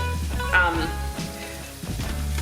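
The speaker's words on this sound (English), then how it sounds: "I'm going to go ahead and add 4 cloves of chopped garlic" Four cloves of finely chopped garlic sizzle in a hot pan as the base of a marinara sauce. The frying hiss is steady and close, with a few stirring scrapes, and a person talks over it.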